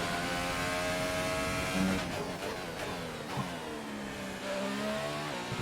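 Race car engine in a racing video game during an Abu Dhabi lap: a steady, loud high-pitched engine whine rising and falling through gear changes and corners, with sharp downshift blips and pitch sweeps, no voices.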